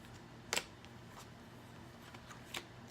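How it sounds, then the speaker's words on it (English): Tarot cards are tossed out onto a surface during a reading, giving a quick papery flutter and slap followed by a second, fainter flick a couple of seconds later, in a quiet room. "I'm going to throw some cards out."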